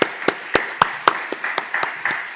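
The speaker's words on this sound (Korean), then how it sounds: "우리 격려의 박수 다시 한 번 더 치겠습니다." A church congregation gives a short burst of encouraging applause, about a dozen distinct claps in an uneven rhythm, close and fairly loud.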